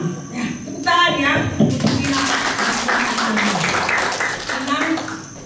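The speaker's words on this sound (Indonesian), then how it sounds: "tepuk tangan ya" Audience applause at a church women's fellowship retreat in Jakarta, a dense patter of many hands clapping that starts partway through and continues steadily under someone speaking over a microphone.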